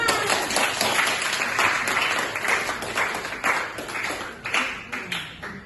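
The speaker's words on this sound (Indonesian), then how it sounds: "Tepuk tangan semuanya." A classroom of students claps for a classmate's answer, a steady, dense patter of many hands close by that runs the whole time, swelling and easing slightly with a few sharper claps standing out.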